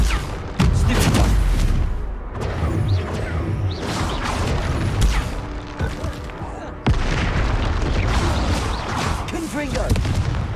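Repeated booming spell blasts and crashing impacts from combat in Hogwarts Legacy, loud and dense over about ten seconds, with a voice shouting spell names over the fighting.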